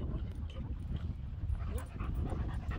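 A dog pants and whimpers softly in a steady, close breathy rhythm, with low rumbling background noise and no clear barking.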